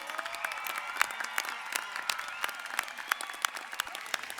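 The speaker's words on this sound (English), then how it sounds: "so that we can applaud them for their academic achievements" Audience at a Class of 2019 graduation commencement ceremony applauds honor graduates, sharp individual claps ringing out clearly over a steady crowd bed in a large hall, continuous for several seconds.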